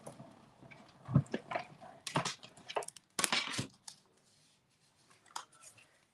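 Paper flower being cut out with scissors for a stamped card, close snips and crinkly rustles in uneven bursts, with quiet pauses between.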